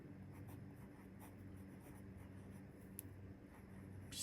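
An extra fine nib fountain pen writes quickly on paper, giving a faint, soft scratching over quiet background hiss with a few light taps.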